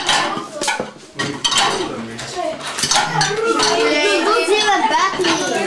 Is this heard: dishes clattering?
yes